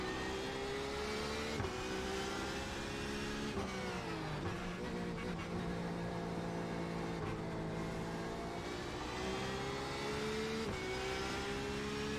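A race car engine in iRacing at Circuit de Barcelona-Catalunya on an IMSA-type car holds a steady, loud, close drone throughout, its pitch briefly dropping and rising again as it shifts and revs, with no talking.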